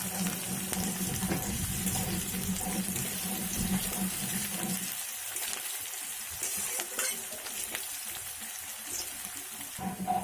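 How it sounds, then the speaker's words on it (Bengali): Two medium onions fry in a pan for khichuri, giving a steady close sizzle with stirring scrapes that is fuller in the first half and thins out after about five seconds. "পেঁয়াজটাকে একটু লাল করে ভাজতে হবে"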